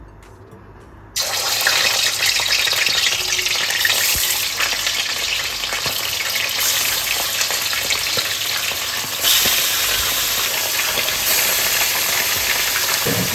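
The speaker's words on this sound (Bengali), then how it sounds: "বেরেস্তার তেলের মধ্যে একটু ঘি মিশিয়ে দিলাম। এবার মাংসটা দিয়ে দিচ্ছি আমি।" Raw chicken dropped into hot oil mixed with ghee for kadai chicken erupts into a loud, dense, continuous sizzle after a quieter start, holding steady with a slight surge near the end.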